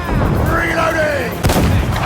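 Ship cannons booming during a naval battle in Assassin's Creed 4 Black Flag, with a heavy blast near the middle over continuous battle noise and faint shouted voices.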